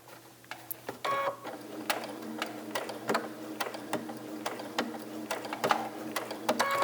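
A sewing machine stitches a biscornu cushion, running in short bursts with rhythmic clicking and mechanical whirring, close and steady, pausing briefly between runs with no talk.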